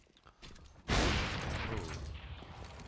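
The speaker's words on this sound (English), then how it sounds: "Slow-mo gun sound." Gunfire from Counter-Strike on de_mirage, slowed down: a sudden heavy burst erupts after a quiet moment, then a sustained rumbling roll of shots.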